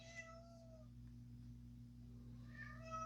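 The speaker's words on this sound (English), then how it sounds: "Oh, I hear the cat screaming out there." A cat outdoors yowls loudly twice, a drawn-out cry at the start and another near the end, over a low steady electrical hum.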